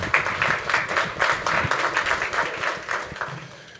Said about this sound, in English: Well, thank you for the applause.